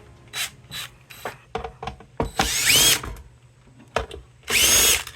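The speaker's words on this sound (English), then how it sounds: "Use my overkill drill here" Power drill backing fasteners out of a power inverter board in a garage, several short whirring bursts of varying length with pauses between, plus two longer loud high-pitched runs near the end.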